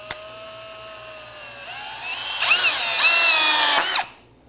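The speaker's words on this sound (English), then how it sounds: "I'm going to use just a regular drill." A regular electric drill drives a hidden fastener into PVC vinyl trim: a close motor whine that rises in pitch, bears down loudly as the screw sinks, then cuts off abruptly.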